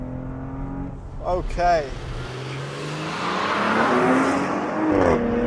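A 2019 Porsche Cayenne S launching hard from a standstill, with a loud engine roar rising through quick upshifts and a brief spoken word near the start, the engine building steadily louder.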